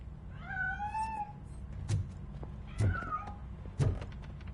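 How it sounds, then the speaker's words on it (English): A cat meows repeatedly in the Robocop: Rogue City video game, several drawn-out mewing calls with a heavy thudding and knocking sound between them, fairly quiet against a low background hum. "That cat must be hiding inside."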